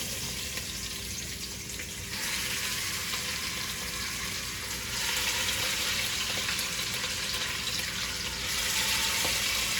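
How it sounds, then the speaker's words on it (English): Oxtails sizzle loudly in hot grease, a continuous crackling hiss that swells in intensity a few times, with no talking. "When you put those oxtails in there on that grease, you want to hear that sizzle."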